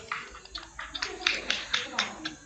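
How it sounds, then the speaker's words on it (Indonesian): A classroom group gives a short round of applause for a student group during a peer-teaching session, light scattered claps arriving in quick uneven bursts under a speaking voice. "tepuk tangan untuk kelompok 1"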